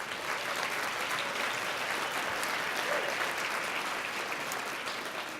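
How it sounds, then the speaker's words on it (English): Steady audience applause fills a gala banquet hall for the dairy industry, dense and continuous throughout with no pauses. "let's give a round of applause for the dairy industry"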